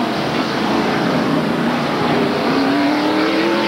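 A Kodiak Chevrolet stock car pulls away from a pit stop at a 1993 road-course race, its engine a loud continuous roar with a rising tone near the end, steady throughout with no talk.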